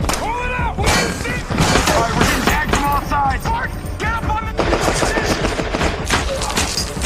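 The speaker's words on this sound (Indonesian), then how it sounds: "Namun, tembakan dari arah lain mengenai Taski dan menewaskannya." Rapid bursts of gunfire crackle repeatedly amid shouting voices and chaotic noise, loud and close, during the 2003 invasion of Iraq.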